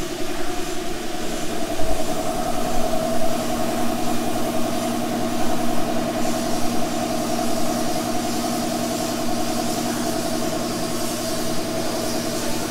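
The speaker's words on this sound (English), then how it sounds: "I'm actually standing right next to the compressor and it's quiet." An electric air compressor running steadily at a house construction site, a continuous even hum and drone that holds level throughout without a break.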